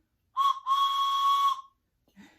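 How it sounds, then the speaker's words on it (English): A toy train whistle blown during children's train play, two bright steady toots, a short one then a longer sustained blast, loud and close with no talk over it. "Can you blow your whistle?"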